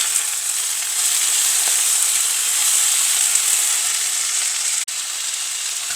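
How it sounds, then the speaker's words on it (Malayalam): Ivy gourd (tendli) sautéing on a low flame with crushed curry leaves, a steady close sizzle and hiss with one faint click near the end. "ഇതിലേക്ക് നമുക്ക് കോവയ്ക്ക ഇടാം അത് ചെറിയ തീയിലൊന്ന് സോട്ട് ചെയ്യാം"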